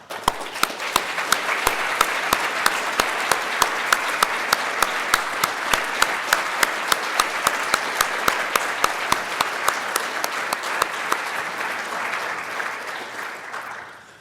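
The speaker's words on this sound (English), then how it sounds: "maybe we could have a round of applause too" A large conference audience at the LSST 2017 plenary session applauds with dense, sustained clapping that holds for about fourteen seconds before tapering off at the end.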